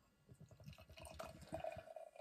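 Beer from a Track Brewing Co. and SOMA collaboration pours into a glass with a quiet, continuous gurgling splash that rises toward a fuller, foaming fill, heard faintly and close up.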